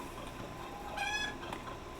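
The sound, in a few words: chicken clucking in the video game Icarus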